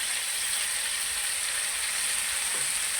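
Tomato slices frying in a pan for pakora curry, giving a steady, close hiss and crackle of hot oil that holds constant throughout.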